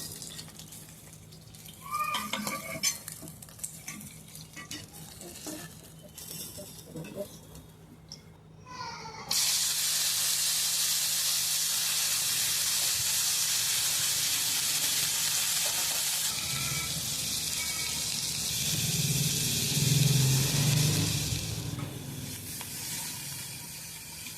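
Cauliflower florets frying in hot oil, a steady loud sizzle that surges partway through and holds to the end, with low pan scrapes and turning noises near the close.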